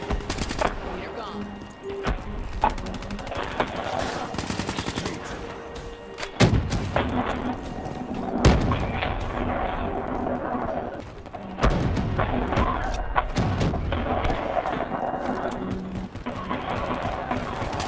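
Rapid gunfire and heavy thuds from a Call of Duty: Black Ops III team deathmatch, with sniper shots cracking amid repeated loud bursts and explosive impacts while a player talks excitedly over the action.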